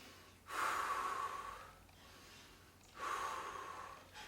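Heavy, deep breathing after a set of low mountain climbers in a kettlebell workout: two long, loud exhales a couple of seconds apart, close and breathy, with a quieter inhale between them.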